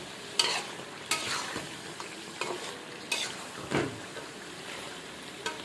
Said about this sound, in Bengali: এখন মা কষিয়ে নিচ্ছেন